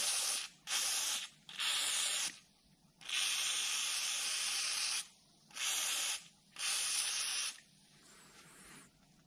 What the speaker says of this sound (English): So, same again, bit of electrical cleaner first,